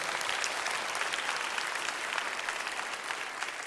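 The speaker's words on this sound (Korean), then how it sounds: "아유, 박수 한번 주십시오." An audience at a church prayer meeting applauds, a dense, steady burst of clapping from many hands filling the hall, loud and continuous with no talking over it.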